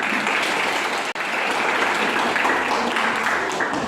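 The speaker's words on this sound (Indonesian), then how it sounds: "silakan dulu tepuk tangan kita semuanya" A classroom of students applauds together, dense continuous clapping from many hands, close and fairly loud, with a brief dip near the start before resuming steadily.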